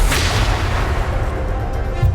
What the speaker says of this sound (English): the night silence is pierced by a gunshot